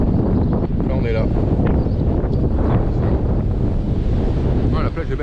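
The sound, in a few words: wind at the beach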